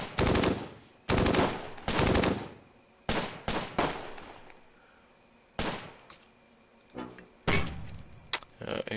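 Bursts of gunfire from troops in the war game Close Combat: Gateway to Caen, with loud rapid machine-gun rattles and single shots coming in uneven clusters with short silences between them.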